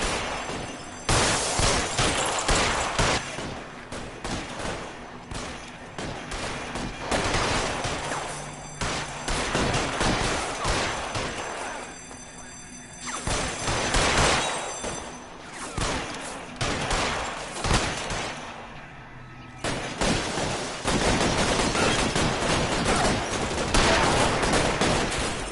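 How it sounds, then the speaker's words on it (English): A shootout in the video game L.A. Noire, with dense, loud bursts of rapid gunfire and scattered single shots crackling continuously, swelling and easing in waves. "And now, a shootout already in progress."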